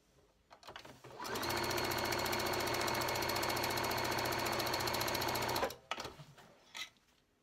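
A sewing machine runs in one steady, close burst of about four seconds while stitching fabric for a wonky log cabin quilt block, with brief handling clicks before and after.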